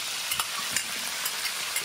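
Onions stirred hard with a spoon in a cooking pot, a steady hiss with repeated soft scraping strokes, close and fairly quiet, no talking.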